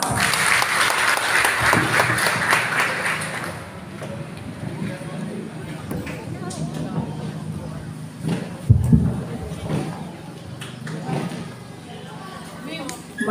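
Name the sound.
applause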